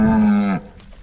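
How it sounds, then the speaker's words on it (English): A single loud, close cow moo from a cattle herd being moved through a gate onto triticale pasture, a sustained low bellow that cuts off sharply into quiet outdoor noise. "open up the gate and let them in here"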